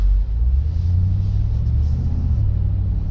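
A deep, steady Mercedes-AMG G63 V8 rumble through side-exit exhaust pipes throbs close by, low and heavy with a burbling tone, constant throughout.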